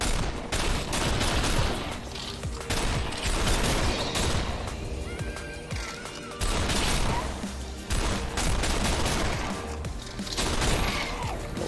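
Gunfire in a VR shooting game on a Vive Focus Plus headset comes in repeated loud volleys of close shots, separated by short lulls.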